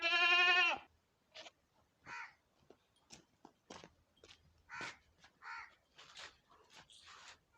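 A goat bleats loudly once in a long wavering call, followed by a run of short, quieter scattered calls and rustling sounds in a rural setting.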